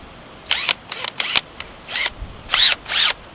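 A power drill fitted with a 5/16 bit bores holes into PVC pipe, about seven short whining bursts with brief pauses between them, close and loud.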